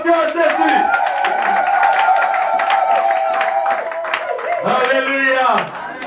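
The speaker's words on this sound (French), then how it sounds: "Donne des acclamations à Jésus." A church congregation bursts into sustained applause and cheering, a loud, dense wash of clapping mixed with raised voices, fading slightly at the close.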